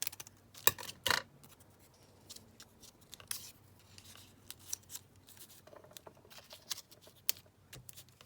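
Scissors cutting a paper guest check in half, a few sharp close snips followed by quieter sporadic paper rustles and clicks.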